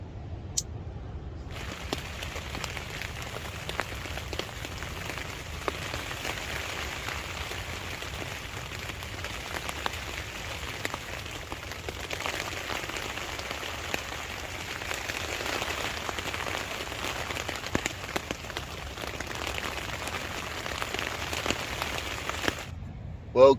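Rain patters steadily on an OEX Coyote III tent pitched in the woods, a soft continuous drumming with scattered louder drips over faint wind, close by and fairly quiet throughout.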